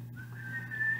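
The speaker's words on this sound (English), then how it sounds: "I have to relearn how to whistle." A person whistles a single short note, a thin, clear tone that rises slightly and holds for under a second in a quiet indoor space.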